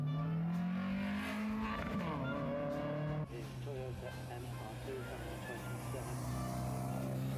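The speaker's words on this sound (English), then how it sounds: "Mazda MX-5 chasing a place in the Wiscombe Championship" Mazda MX-5 at the Wiscombe hill climb, its engine note rising and shifting as it accelerates up the course, with tyre noise and a gear change midway, heard from a moderate distance.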